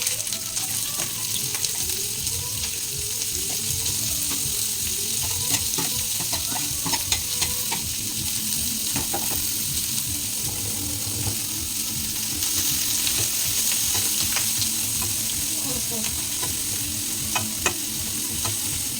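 Onions sizzle steadily in hot oil for an egg curry, a dense, loud frying hiss that runs throughout with repeated scraping and stirring strokes and no voices.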